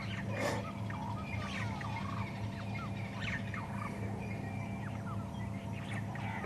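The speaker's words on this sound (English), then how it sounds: "both Natal and crested francolin calling as well" Natal and crested francolins call in harsh, rattling bursts against a dense, distant backdrop of other birdsong and a low steady hum, fairly faint overall.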